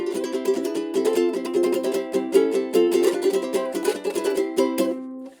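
A freshly tuned ukulele strummed in a steady rhythm of bright, close chords, played alone and fading out at the end.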